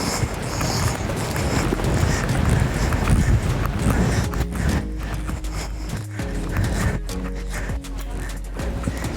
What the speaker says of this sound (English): try and stay in trot if you can